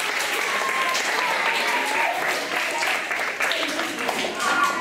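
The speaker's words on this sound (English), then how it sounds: "Everybody clap like crazy." Children clapping wildly for Zeke the toucan at a library event, a steady, dense wash of applause from a crowded room that holds at full strength throughout.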